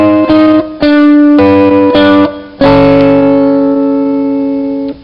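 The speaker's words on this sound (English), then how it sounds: "With the pick, strum the top three strings." Picked guitar line strumming the top three strings with the second string muted rings close and loud, with several clean plucked chords in sequence before a final chord that slowly fades.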